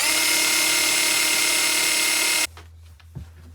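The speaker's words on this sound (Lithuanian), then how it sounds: "Tai dabar reikės išsigręžti skylę varžtui." A power drill boring a hole for a bolt while mounting an LED bar, a loud steady high whine running continuously for about two and a half seconds, then cutting off to quiet handling noise.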